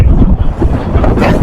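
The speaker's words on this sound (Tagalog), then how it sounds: "Lakas ng hangin ah." Strong wind gusting over a small boat out at sea, a steady loud rushing roar buffeting the microphone throughout, with low water noise beneath and no talking.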